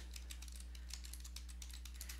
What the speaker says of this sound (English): you just start typing away